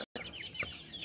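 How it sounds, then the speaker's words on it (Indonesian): A five-month-old Joper hen, a crossbred village chicken that has just begun laying, gives a few soft, quick clucks close by in a brief moment with no talking. "Ini ayam Joper Cak Mit hasil menetaskan sendiri"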